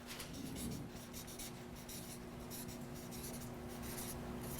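Pen or marker scratching steadily across paper in close, continuous handwriting strokes, with quick repeated bursts of friction and a faint steady hum underneath; no voices.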